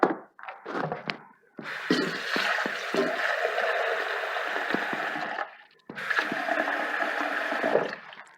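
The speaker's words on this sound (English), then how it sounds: "Looks like I still need a little bit of water." Water is poured from a tap into a pot of stuffed cabbage rolls (sarmale), two sustained rushing, splashing bursts separated by a short pause, close and fairly loud with no talk.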